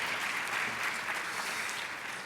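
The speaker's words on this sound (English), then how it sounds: "Let's give her one more round of applause for that great story." Sustained applause from an audience at a town hall meeting, many hands clapping in a dense, even wash at moderate loudness with no voices over it.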